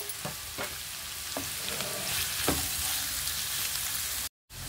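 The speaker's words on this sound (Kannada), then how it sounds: "ಹಾಗೆ ಆನಿಯನ್ ಹಾಕ್ತಾ ಇದ್ದೀನಿ, ಬೀನ್ಸು ಹಾಕ್ತಾ ಇದ್ದೀನಿ ಒಂದೇ ಟೈಮ್ಗೆ, ಕ್ಯಾರೆಟು ಹಾಕ್ತಾ ಇದ್ದೀನಿ." Onion, beans and carrot frying together in a pan, a steady bright sizzle with a few scraping stirs near the start, continuous and close, no voices.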